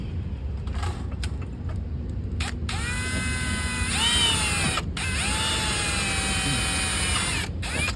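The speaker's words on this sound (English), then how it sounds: "Let me drill that pilot hole while it's open." A power drill bores a pilot hole for a MORryde handrail, its motor whining in several steady runs that stop and start, with workshop noise underneath.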